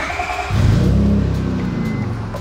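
Turbocharged Honda V6 car engine running on a dyno, a loud steady drone that rises in level partway through and holds, close and without voices.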